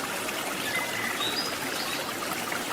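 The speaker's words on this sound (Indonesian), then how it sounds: "setelah istirahat di atas air terjun Watu Gedek" Flowing river stream above the Watu Gedek waterfall, a steady broadband rushing wash heard alone at moderate level without pauses.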